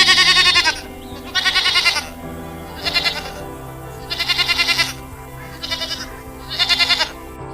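Goats bleat while grazing outdoors, in six or seven loud, wavering calls spaced about a second apart, each call close and clear with short pauses between.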